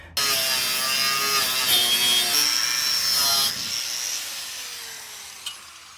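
A power cutting tool slicing sheet metal on a 1967 VW Type 3 Squareback, a loud continuous whining, grinding cut for a few seconds that stops abruptly, leaving quieter winding-down tool noise.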